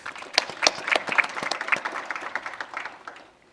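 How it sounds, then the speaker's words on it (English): Applause at an economics conference session on tax and social security reform, a smallish group clapping with distinct individual claps that gradually thin out and fade. "give him a digital round of applause"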